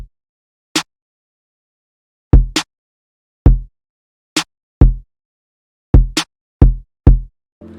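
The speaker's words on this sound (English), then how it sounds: "I would just show you the kick and snare, and it sounds like this." A sparse hip hop kick and snare pattern plays alone in silence, booming kicks and sharp snare cracks spaced irregularly across several bars, punchy and dry.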